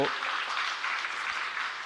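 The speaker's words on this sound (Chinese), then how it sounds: "我们是鼓掌一下，谢谢他们了哈" A church congregation applauds its small group leaders during a Sunday service, with soft, distant clapping and a voice speaking over it.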